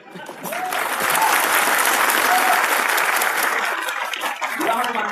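Audience applause from a crowd at a live show, a dense, steady wash of clapping that swells quickly and holds at full volume for several seconds with a few brief cheers mixed in, then eases slightly near the end.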